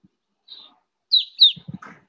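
A finch call type with very clear, thin whistled notes: one soft call followed by two louder, closer ones, with a brief low rustle at the end in near silence.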